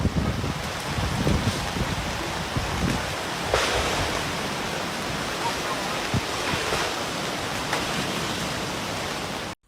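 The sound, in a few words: strong flood water current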